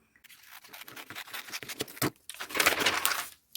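Scissors cutting a flared pant pattern out of old skinny pants: close, scratchy snipping and sliding cuts in uneven bursts, with a denser rasping stretch near the end and no talking.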